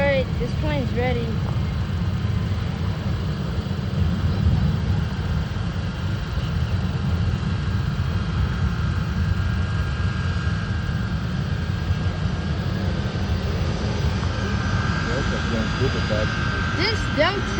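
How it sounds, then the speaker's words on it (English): A Delta airliner jet speeds past at an airport, a steady broad roar filling the whole stretch and swelling slightly toward the end, with a person talking over it at times. "This Delta airline is going so fast"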